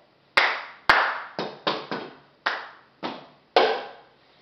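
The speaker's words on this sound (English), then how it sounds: "And clap again." Sharp hand claps from a cup song routine, seven distinct claps in an uneven rhythm, each close and loud with a short ringing decay, with no voices.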